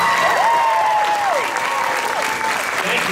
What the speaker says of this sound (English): Stage crew and applause.